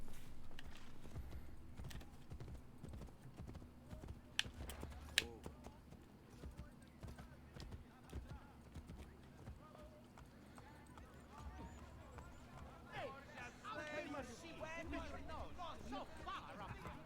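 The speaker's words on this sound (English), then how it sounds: "Trying to get on the fucking horse." Horse hooves clip-clop in Assassin's Creed Brotherhood, a steady trotting rhythm of hoof strikes alongside a neighing horse, heard under someone talking over the game sounds.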